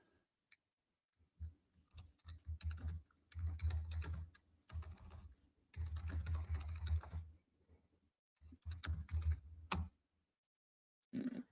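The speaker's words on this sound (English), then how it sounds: "The aggressive typing." Fast, forceful keyboard typing in bursts, close and clattering, with brief pauses between flurries of keystrokes.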